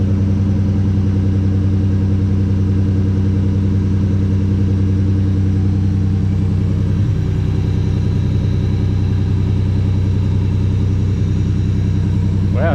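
A Nissan Navara's VG30 engine, freshly rebuilt and fitted with a new turbo, runs at a steady loud idle just after its first start, with a constant low rumble and a slight shift in tone partway through.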